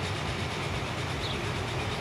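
Trains rolling along rails in the Transport Fever game, a steady, dense rumble of wheels and carriages held at an even level throughout, with no voices.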